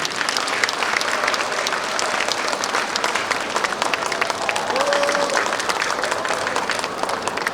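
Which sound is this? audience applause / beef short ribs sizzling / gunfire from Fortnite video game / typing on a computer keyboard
audience applause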